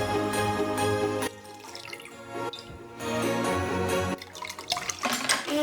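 Homemade grape and beetroot wine with spices is strained and poured into a bottle, giving soft intermittent drips and trickles beneath steady background music.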